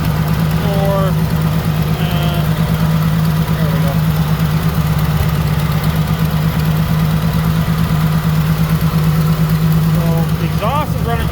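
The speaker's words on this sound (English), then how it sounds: "Exhaust is running pretty even, which is a good sign." A car engine fitted with two exhaust manifolds idles evenly, a steady low hum that holds at a constant level for the whole stretch, with brief faint voice-like sounds at moments.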